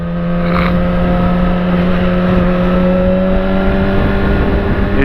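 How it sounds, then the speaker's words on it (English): A 2006 Yamaha R6 sport motorcycle's engine runs in a steady, loud, close drone with a constant pitch and no sharp rises or falls. "enjoy the sound of our beautiful R6, Yamaha R6 2006 model."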